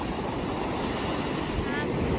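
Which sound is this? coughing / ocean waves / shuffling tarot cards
ocean waves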